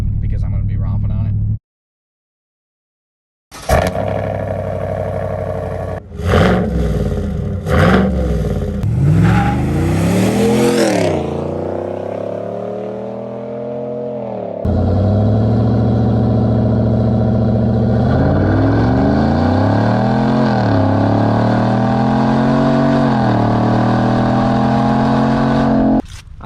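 A 2021 Chevrolet Silverado with the 6.2-liter V8 and 10-speed transmission is driven hard. The engine revs rise and fall through repeated gear shifts, loud and close from inside the cab, with talk over it.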